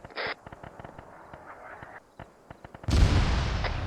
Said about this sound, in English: No, that was a mortar.